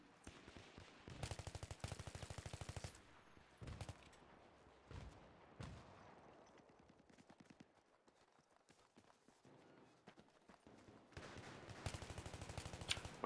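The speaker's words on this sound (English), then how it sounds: "Auto shot again." A shooting video game plays back-to-back bursts of rapid automatic gunfire, with sharp single shots between bursts and quieter stretches in between, all fairly faint and without talk.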